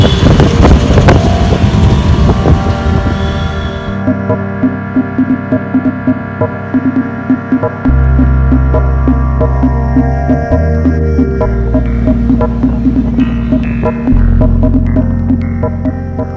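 A taxi engine hums steadily through a ride in India, a loud, throbbing drone with a rising pitch that shifts as the car changes speed, with no voices over it.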